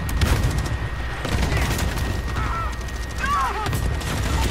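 Cluster strike explosions and gunfire rumble in a Modern Warfare match on the Shipment map, a dense rapid series of booms and shots with brief chirping game effects over them.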